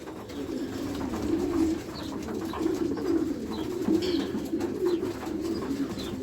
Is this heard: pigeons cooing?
yes